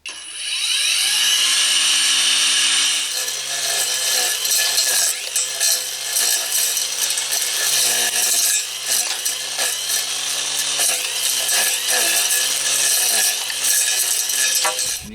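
A Saker brushless string trimmer cuts heavy brush outdoors with a close, whirring electric motor whine that starts after a second and rises and dips in pitch as it bogs into the growth, with rattling debris throughout.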